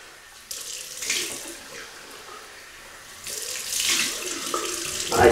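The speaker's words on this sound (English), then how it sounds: "Rinse off with cold Welsh water" A bathroom tap runs while someone rinses their face with cold water, with bursts of splashing rising and falling over a steady flow, close and fairly soft.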